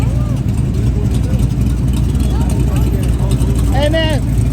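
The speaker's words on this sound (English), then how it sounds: "He's got, you hear that thing? He's got a big cam in there, dude." A modified car engine with a big cam rumbles at a street car cruise, a loud, lumpy low drone that runs throughout beneath people talking nearby.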